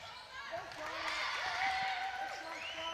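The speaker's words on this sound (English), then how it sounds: "You can hear the whoops and the cheers from the Scotland fans in the crowd there" Scotland supporters in a school netball crowd whoop and cheer, rising and falling whistles and shouts over a steady crowd roar, with a commentator talking over them.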